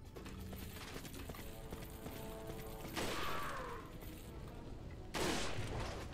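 Gunfire in Resident Evil 4's Assignment Ada mode, two sharp shots several seconds apart over a busy bed of mechanical clicking and ambient game noise.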